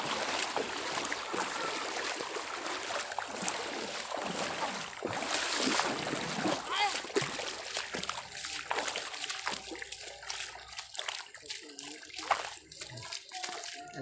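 River water rushing and splashing nearby, a steady full wash of flowing water that loosens and softens toward the end, with faint voices now and then.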